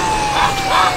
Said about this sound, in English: All right, hitting the siren now.